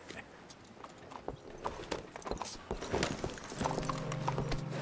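Horse hooves clip-clop in an uneven rhythm in the video game Red Dead Redemption 2, fairly quiet, with a low mechanical hum joining toward the end.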